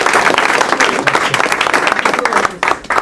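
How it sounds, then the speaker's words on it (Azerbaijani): An audience at an Eon Liga battle rap event applauds rapper Neocortex, with dense, steady clapping and crowd noise filling the short stretch, briefly dipping near the end. "Alqışlayaq."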